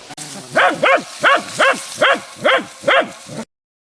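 A wire-haired dachshund tracking a wounded deer gives seven evenly spaced, sharp barks in a steady rhythm, close by, before the sound cuts off.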